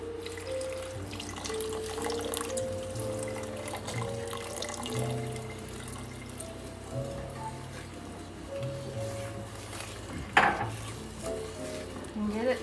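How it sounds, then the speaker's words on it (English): Water poured over sugar and corn syrup in a pot and stirred, a soft continuous swishing and scraping close by, with faint kitchen hum and a brief louder clatter near the end. "And we're going to add our water and stir it all together."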